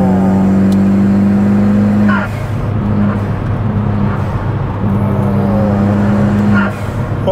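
A 2016 Honda Civic Type R engine runs with a steady, close, droning note. Its pitch dips briefly around a shift, then holds again, and some faint background noise sits underneath.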